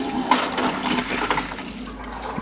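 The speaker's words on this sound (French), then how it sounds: "Donc on entend que ça coule bien" Water running from an outdoor garden tap outlet on a newly installed multilayer plumbing system, a steady splashing flow heard close, with no speech.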